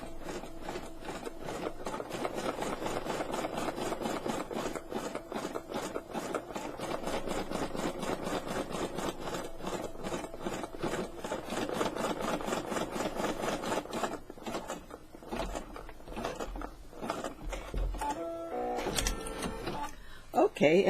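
Embroidery machine sewing a placement stitch in black thread, a fast steady rhythmic needle chatter running continuously at moderate volume, with a few clunks near the end.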